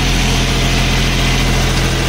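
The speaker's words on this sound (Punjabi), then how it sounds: "ਉਹਦੇ 'ਚ ਕਿੰਨੇ ਆਰਪੀਐਮ ਡ੍ਰੌਪ ਕਰਕੇ ਚੱਲ ਰਿਹਾ ਟਰੈਕਟਰ" A John Deere 5050D farm tractor engine runs loud and close, a constant low diesel drone with steady vibration throughout and no voices.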